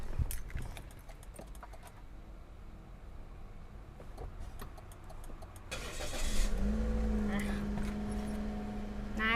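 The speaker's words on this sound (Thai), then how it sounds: "เดี๋ยวน้องเบนจะสตาร์ทให้ได้ยินเสียงเครื่องยนต์กันดีกว่านะคะ" A 2015 Toyota Yaris 1.2 G automatic cranks and fires up about midway, then settles into a steady, close idle hum. Voices and background movement can be heard before the start.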